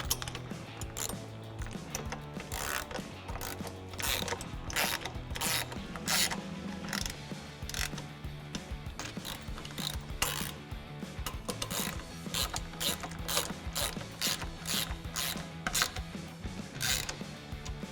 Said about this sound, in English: we're going to go ahead and tighten these up with a 10mm deep socket.